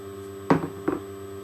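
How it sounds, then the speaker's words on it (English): Hairspray sprayed onto bangs in two short, close hissing bursts about half a second apart, over a low steady room hum. "And then I'm just going to spray my bangs a bit."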